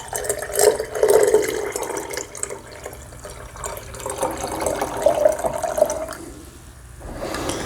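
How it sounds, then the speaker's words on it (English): Warmed honey and water stream into a mead fermentation container, a continuous gurgling pour with a splashy, hollow ring that swells and eases over several seconds, close by and with no talking. "Here it goes into the fermentation container"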